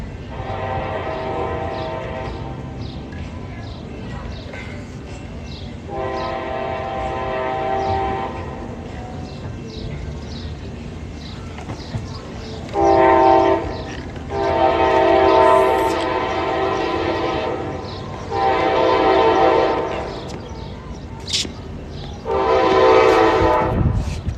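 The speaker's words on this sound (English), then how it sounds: "That's a train." A passing train sounds its horn in repeated long blasts, loud and fairly close, over a continuous rumble of rolling rail cars with clattering wheels.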